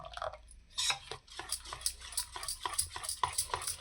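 A spoon stirs thin rava dosa batter in a bowl, giving a string of light scraping clinks and taps in an irregular rhythm, close and fairly quiet, with no voices.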